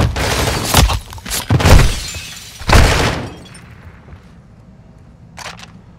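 Glass shattering in the video game Call of Duty: Modern Warfare II, several loud sharp breaking crashes in quick succession, then a quieter tail with a couple of faint clinks, no speech.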